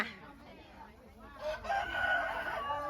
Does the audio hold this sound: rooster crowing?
yes